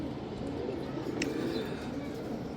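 Domestic pigeons coo softly in a home loft, low murmuring calls blending into a steady background hum with a faint higher chirp midway.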